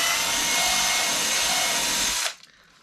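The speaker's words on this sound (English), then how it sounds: "I know a lot of people are scared of drilling holes in their harness" A power drill bores a hole in a carbon windsurf harness, whining loudly and steadily for about two seconds before cutting off abruptly into quiet.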